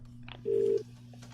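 Short steady telephone tone, lasting about a third of a second, in the video game The Cat Lady, heard over a low constant hum and faint background noise.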